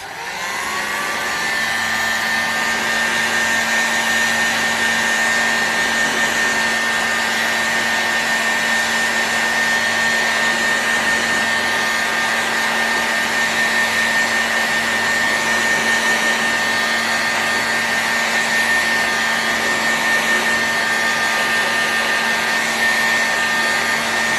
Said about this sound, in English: We'll heat this crankcase up and get these bearings installed.